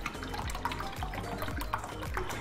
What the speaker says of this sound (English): we're just going to open that up and dump in some water.